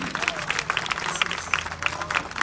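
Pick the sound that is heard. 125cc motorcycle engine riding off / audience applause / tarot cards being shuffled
audience applause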